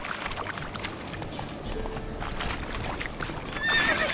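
Roach, a horse in The Witcher 3 video game, neighs over steady trotting hooves; close, continuous clip-clop runs throughout with a whinny rising near the end.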